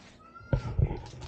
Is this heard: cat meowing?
yes